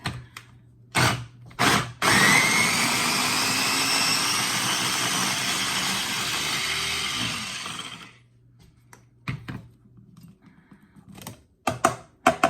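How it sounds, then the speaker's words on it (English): A small motorized blender blending cranberries whirs loudly for about six seconds after a few clicks, then stops, followed by scattered clunks and taps. "So I'm going to go ahead and blend these up."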